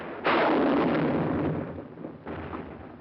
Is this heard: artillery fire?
yes